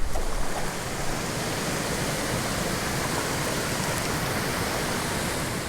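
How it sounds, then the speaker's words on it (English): A waterfall at a lake roars in a steady, dense, full-range rush, close and continuous with no breaks or voices. "And here's a closer look at the waterfall."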